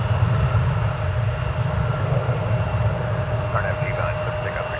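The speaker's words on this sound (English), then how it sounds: "Flight 1828, now on its way to Fresno, California. A 737-800." A Boeing 737-800 jet departing Dallas-Fort Worth for Fresno produces a steady, broad engine roar at moderate distance, with faint voices surfacing toward the end.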